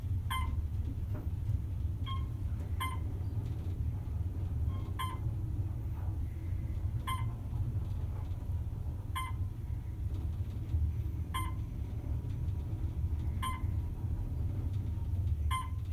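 Otis Elevonic 411M elevator car travelling upward, a low steady motor hum and rumble inside the cab, with faint regularly spaced electronic beeps ticking off as the floors pass.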